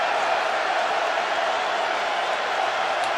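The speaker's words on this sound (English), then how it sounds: "Crowd's getting into it." A college football stadium crowd at Auburn versus Kentucky sends up a steady, dense roar of cheering that fills the whole moment without letting up.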